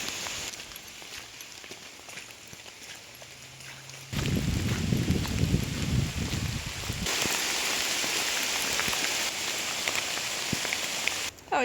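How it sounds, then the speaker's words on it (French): Steady rain falls on a hiking trail in Pennsylvania, a constant hiss of drops that grows denser and louder partway through, with scattered close patters on nearby surfaces. "La Pennsylvanie sous la pluie, c'est casse-gueule."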